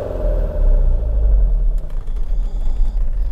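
A 1976 Lancia Fulvia's engine rumbles low and steady while driving on a road, heard from inside the car as a continuous close drone with no talking.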